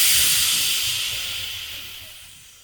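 A Brita saturator carbonating water lets out a strong, steady hiss of gas, loud and close at first and slowly fading over a few seconds, with a faint low rumble beneath and no voices.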